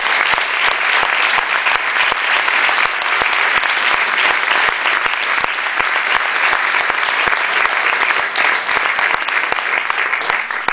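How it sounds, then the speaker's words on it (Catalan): Sustained applause from a sizable audience at a magazine's 50th-anniversary event, dense and steady clapping throughout with no pauses, close and loud. "i per ells demano un fort aplaudiment."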